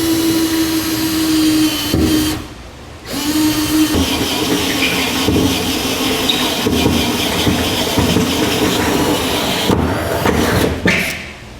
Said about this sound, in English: we'll enlarge these holes from on top using a step bit